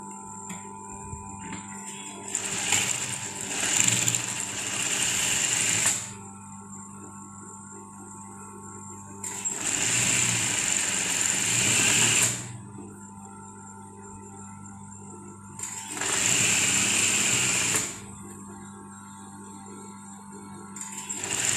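A sewing machine stitches the back of a dress from the hem side, running in three sustained whirring bursts of a few seconds each, separated by quieter pauses where a low hum remains.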